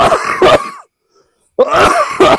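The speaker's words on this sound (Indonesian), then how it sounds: "Batuk lagi." Two close bursts of harsh coughing, separated by a brief silence, each made of rough rasping throat-clearing sounds.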